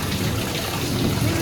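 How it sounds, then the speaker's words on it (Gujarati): A heavy monsoon downpour roars as a dense, steady wash of rain, close and loud, with a voice faintly underneath for the brief moment. "બહુ વરસાદ ભર્યા છે મુસળધાર."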